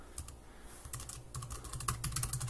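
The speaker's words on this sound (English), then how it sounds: "and now I can type on the keyboard" Someone types on a Bluetooth computer keyboard paired to a Microsoft HoloLens, giving quick, close, quiet key clicks in short bursts that speed up toward the end.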